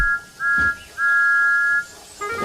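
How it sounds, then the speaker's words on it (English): A steam locomotive whistle blows in long drawn-out tones, loud and close, with brief breaks between blasts. "The two were interrupted by the whistle of Thomas the Tank Engine"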